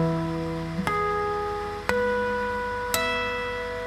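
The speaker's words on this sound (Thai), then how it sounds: "มันจะได้ยินเสียงฮาร์โมนิกขึ้นมา" Three bell-like guitar harmonics chime one after another about a second apart, each ringing out clearly with a soft pluck at the start.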